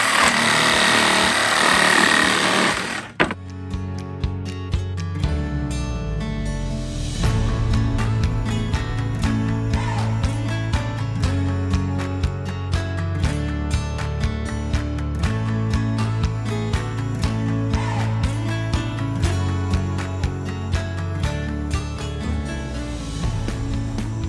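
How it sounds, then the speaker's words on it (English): A power saw cuts apart wooden trim boards inside an Alaskan log home, giving a loud, steady whine with a brief noisy burst at the start and no talking. "So we just got to saw these off, saw them apart so we can use them"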